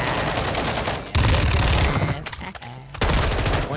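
Rapid bursts of gunfire in the battle royale game Warzone 2 on Ashika Island, dense and loud throughout with a brief lull, while players talk over it.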